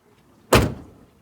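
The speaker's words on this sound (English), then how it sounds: "Open the door and shut the door." A 1.5 SE Proton Saga Iswara under restoration has its door slammed shut with a single hollow, tinny thud from thin body metal, close and sharp, then fading away quickly.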